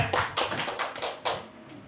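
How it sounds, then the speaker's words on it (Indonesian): A small group in a school setting gives a few seconds of applause, soft irregular hand claps bunched into several bursts, close and fading out toward the end. "tepuk tangan dulu ya"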